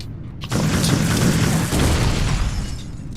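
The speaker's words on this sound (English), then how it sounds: "the explosion is really awesome when there's Chimera around it" A big explosion in the video game Resistance: Retribution erupts suddenly after a brief quiet moment, then rumbles on as a loud, dense, sustained roar with a second surge partway through.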